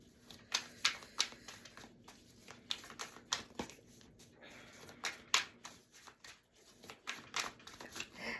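Tarot cards are shuffled by hand at close range in a quiet room, giving a rapid, irregular run of riffling and slapping bursts with no talk.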